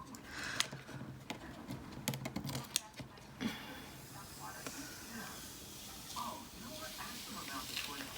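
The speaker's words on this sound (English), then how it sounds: "This Oracle 631 vinyl is so easy to peel off." Oracle 631 vinyl being peeled off a painted wooden sign gives a close, crackly, hissing rip, busiest in the first few seconds and then settling into quieter rustling, with a voice speaking at times.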